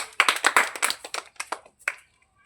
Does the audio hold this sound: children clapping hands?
yes